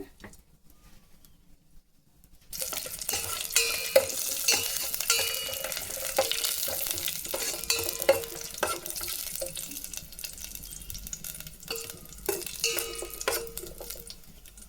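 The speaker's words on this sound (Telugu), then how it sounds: "డ్రై ఫ్రూట్స్ వేసి ఫ్రై చేసుకుంటాము" After a quiet start, a steady frying sizzle of dry fruits in ghee begins and continues, with occasional clinks and stirring sounds from a pan.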